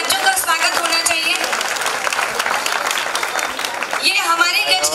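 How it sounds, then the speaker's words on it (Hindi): Spectators at a celebration for the Kharatar Gachchh founding day cheer on children with a burst of clapping, mid-loud and continuous, while a voice talks over the start and end. "तालियों के द्वारा एक बार इन बच्चों का स्वागत होना चाहिए।"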